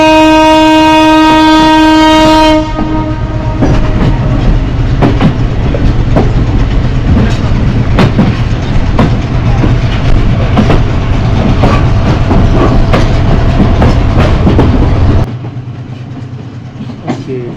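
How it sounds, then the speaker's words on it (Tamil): A train on a Sri Lankan railway rushes past at close range with a loud, steady rumble and rhythmic clattering of wheels, opening with a sustained horn blast before the roar drops away near the end. "அந்த ட்ரெயின் வந்துட்டு டக்குன்னு போயிடுச்சு அதுக்கிட்ட"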